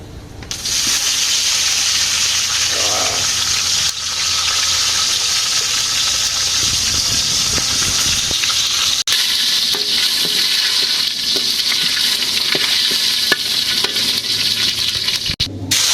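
Mashkalai lentil dal sizzling and frying in a pan, a steady loud hiss with scattered scraping stirs and light clinks throughout.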